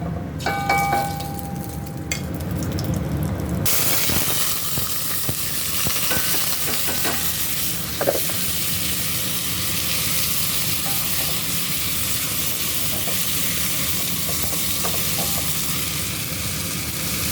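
White rice sautéing in cooking oil, a steady close sizzle with scattered stirring scrapes and faint clinks, continuous for the whole stretch after a brief quieter opening.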